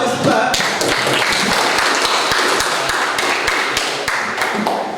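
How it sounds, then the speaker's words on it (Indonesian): Classroom applause for a student, a fairly loud burst of many hands clapping with sharp individual claps standing out, sustained steadily throughout with a faint voice beneath. "tepuk tangan untuk Batista"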